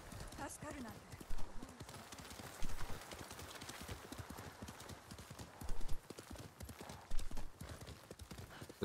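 Steady clip-clop of horse hooves at a walking pace in the video game Ghost of Tsushima Director's Cut, with people talking over it and a brief whinny near the start.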